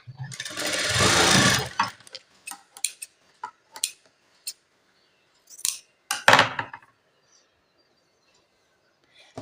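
Sewing machine stitching blouse cross pieces together, a close, steady whirring run of about two seconds, followed by scattered clicks, fabric handling and a second brief burst of stitching.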